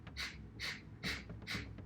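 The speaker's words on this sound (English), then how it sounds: "a few minutes of this crazy breathing technique, the Ego Eradicator." Breath of Fire rapid breathing during a Kundalini Ego Eradicator exercise: four forceful, evenly spaced nasal breaths, each a short sharp hiss about every half second, close and alone.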